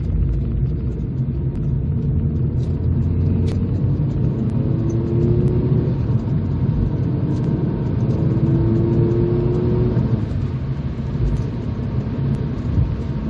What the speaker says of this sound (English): we'll use the Alresford bypass to show this, is a little bit more in the way of standard acceleration